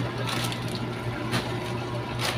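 Liquid laundry detergent pours from a cup in a continuous gurgling, splashing stream, with a few brief louder surges over a low steady hum.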